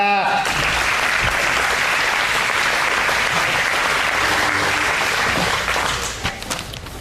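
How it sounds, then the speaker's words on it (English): Loud, dense applause from a graduation audience fills the room steadily for several seconds before tapering off at the end. "Let's give David a round of applause"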